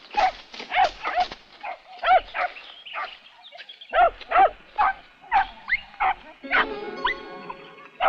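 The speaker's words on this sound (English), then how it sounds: "Oh, hey, look. There's the dog." A dog barks repeatedly in short, loud, close bursts, the barks coming steadily over several seconds in an outdoor countryside setting, with some rustling at the end.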